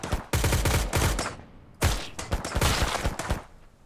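Two long bursts of automatic machine gun fire in the Mist Survival video game, loud and close, separated by a short pause, followed by scattered single shots trailing off.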